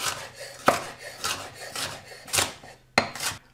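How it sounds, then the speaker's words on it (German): Bell pepper strips being diced into small cubes with a knife, a quick run of six or so close chopping knocks on a board in an uneven rhythm, with no voices. "und die dann danach in kleine Würfel."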